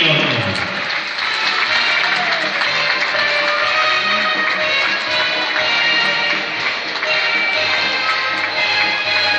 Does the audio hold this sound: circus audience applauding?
yes